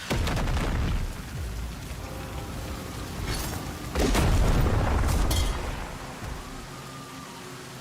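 A weapon drop lands in a video game with a heavy boom and rumbling crash near the four-second mark, amid a steady hiss like rain or debris and fainter booming impacts before and after.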